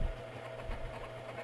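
An old 500-watt Kenmore stand mixer kneading pretzel dough on low speed, a steady low motor drone with a slight rhythmic wobble, close and moderately loud.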